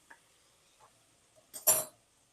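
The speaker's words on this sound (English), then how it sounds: "let me get a knife and spoon for butter and garlic" A knife and spoon handled in a home kitchen while cooking shrimp scampi: a few faint, scattered clinks, then a louder, brighter metallic clatter near the end, close by and with no talking.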